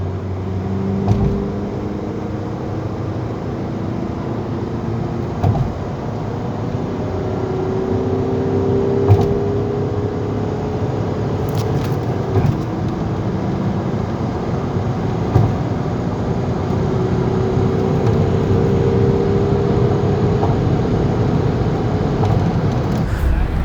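A Volkswagen Passat B6 drives steadily in third gear, its engine humming low under continuous road and cabin noise, with a faint rising whine and occasional small knocks over a long stretch without speech.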